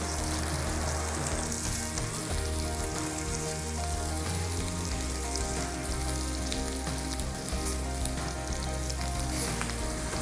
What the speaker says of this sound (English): So now, let's start my shrimp.